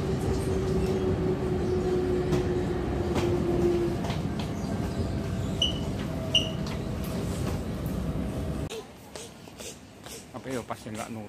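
Shanghai maglev train arriving at the Pudong International Airport station, a loud steady rumble and hiss inside the carriage with faint tones, fading abruptly to quieter station ambience as the doors open, with speech over it.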